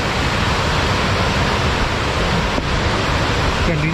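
Pykara waterfall in a forested valley near Ooty pours steadily, a dense continuous roar of rushing water that stays loud and even throughout with no break.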